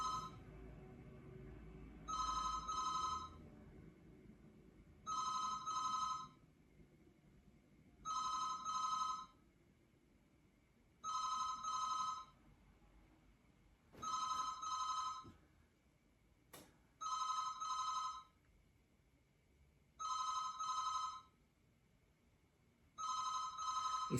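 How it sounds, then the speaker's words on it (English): A telephone bell rings in regular double bursts, eight rings evenly spaced with quiet gaps between, heard indoors at moderate volume with no talk over it. "Let me just wait till the phones stop ringing."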